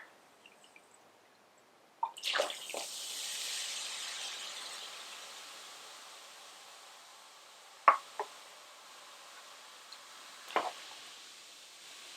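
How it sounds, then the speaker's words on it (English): A cup of water poured into dry ingredients for lemon lavender dishwasher pods, bringing a soft hiss that slowly fades, with a few sharp clicks and small drips scattered over a quiet background. "We're going to add 1 cup of water."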